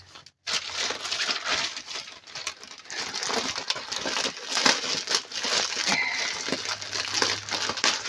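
Scissors cutting through tape and a mail package being opened, with close crinkling and crumpling of packaging in a dense, continuous rustle and a few sharper snips, with no talk.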